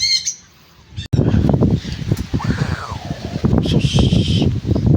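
Birds chirp and call intermittently close by, with a brief high twitter at the start and a burst of calls near the end, over steady rustling and low movement noise.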